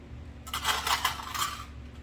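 Sewing clips snapping a zipper onto fabric for a zippered pouch, a cluster of light metallic clicks and small scrapes close up, with no talking.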